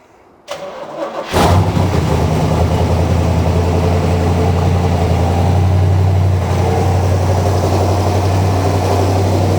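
A 1967 Corvette with the L89 engine, long unstarted and with a dry carburetor bowl, is cranked on the starter, then catches and settles into a loud, steady, close-up fast idle that drones on without talk.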